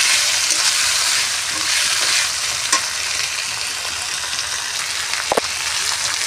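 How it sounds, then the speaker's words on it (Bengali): Potatoes and tomatoes fry with spices in a pan, giving a steady loud sizzle with occasional clinks and scrapes from stirring, and no talking. "এগুলো মশলার সঙ্গে ভালো করে মিশানো হয়ে যাবে এবং ভাজাও হয়ে যাবে"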